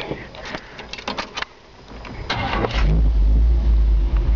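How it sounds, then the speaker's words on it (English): Up close, a starter cranks in quick bursts, then a 1957 Chevy truck engine with long tube headers fires up and settles into a loud, deep, rumbling idle. "Touch the key, it fires right up."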